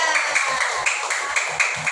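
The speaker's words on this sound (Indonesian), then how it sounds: "tepuk tangan untuk calon nomor 3" A classroom of students claps for a class president candidate. The hands strike in a fairly regular rhythm at moderate loudness, with a light murmur underneath.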